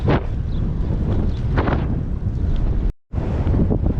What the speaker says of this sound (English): this wind just won't give us a break